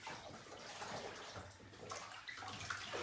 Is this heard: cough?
no